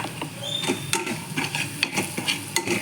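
Spice powders, coriander and red chilli, being stirred into poha in a pan, giving soft scraping and clinking of a spoon in an irregular rhythm, close and moderately loud with no talk.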